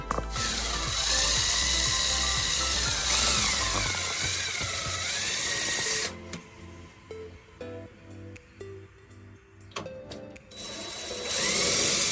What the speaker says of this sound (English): So I'm gonna mark them out where we need to drill, put the bolts through